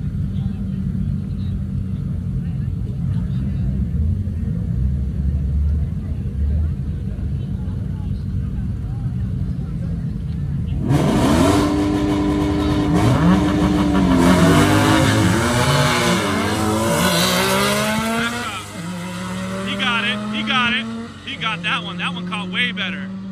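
A car engine on a quarter-mile drag strip revs and accelerates hard, loud and rising in pitch through several gear changes before cutting off, with crowd chatter and background noise underneath.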